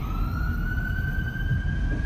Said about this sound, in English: ambulance, police, ambulance